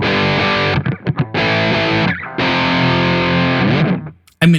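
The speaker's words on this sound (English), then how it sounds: "let's find that Mesa Boogie Dual Rectifier" Mesa Boogie Dual Rectifier amp model in AmpliTube 5 at default settings: heavy, thick distorted guitar chords in a few bursts with short choppy stops between, closing on a long sustained chord and a quick final hit.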